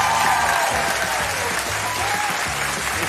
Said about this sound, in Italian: Applausi per Margherito